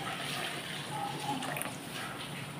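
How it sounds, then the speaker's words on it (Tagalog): Water pours steadily into a pot of sautéed sardines with cabbage, moringa and chayote, a continuous close splashing rush that holds at an even level throughout. "Tapos, dugangan ko lang tubig."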